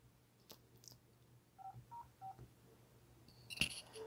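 Keypad dialing tones on a Wildix WP410 desk phone: a series of short, distinct beeps pressed one after another at an uneven pace, quiet and close, with soft clicks and no talking.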